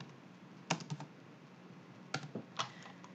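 Close computer keyboard typing comes in two short bursts of crisp clicks separated by a quiet pause, over faint background hiss.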